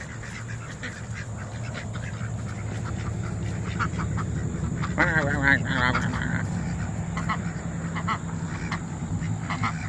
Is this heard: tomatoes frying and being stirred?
no